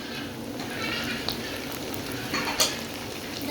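Mutton tahari masala with tomatoes fries in a pan with a steady close sizzle, punctuated by a few scraping stirs and a clink of a spoon toward the end.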